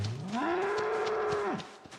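An angry bull in the Project Zomboid survival game lets out a single long, close moo that rises in pitch, holds, then drops off abruptly, with no talking over it.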